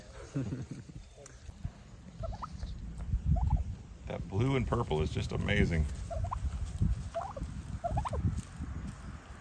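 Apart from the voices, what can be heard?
turkeys gobbling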